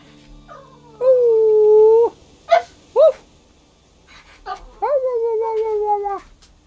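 A pet dog whines and howls while expecting its dinner, with two long drawn-out howls separated by short yelps, loud and close in an otherwise quiet room.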